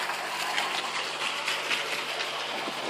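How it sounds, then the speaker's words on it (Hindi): Two pumps drawing water out of a filter tank that feeds sand and carbon filters produce a steady, even gushing rush with a faint mechanical hum, constant and unbroken throughout. "अब फिल्टर टैंक से ये पानी पंप आउट करते हैं और ये जैसे देख सकते हैं आप कि इधर 2 पंप लगे हुए हैं।"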